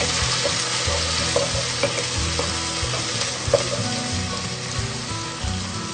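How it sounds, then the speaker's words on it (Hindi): Garlic and ginger paste sizzles in a pan of browned onions for a Pakistani chana dal fry, a steady loud frying hiss with scraping stirs and light clinks of a spoon throughout. "अब लहसुन और अदरक का पेस्ट डालेंगे।"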